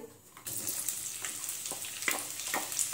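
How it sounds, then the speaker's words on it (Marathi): Onions sauté in hot oil in a kadhai for mushroom masala, a steady close sizzle rising after a quiet start, with occasional spoon scrapes and stirring clicks over the frying. "इथे आपण कांदा परतून घेऊ"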